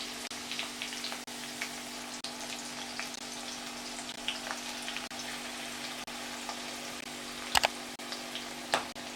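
Beef pieces sizzling in a pan for a Kerala-style beef dry fry: a steady, even crackle of frying with scattered pops and a couple of sharper spatters near the end.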